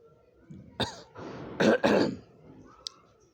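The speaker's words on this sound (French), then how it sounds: "Mettez vos masques, j'ai toussé." A few rough coughs and throat-clearing bursts, close and isolated, separated by short quiet gaps.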